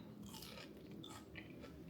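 A single crisp bite into a crunchy fried wrap, a short dry crackling crunch heard close up and alone, fairly quiet.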